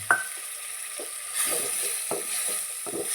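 Tomatoes sizzle steadily in a hot pan while a utensil scrapes and stirs at intervals, with a soft clink at the start.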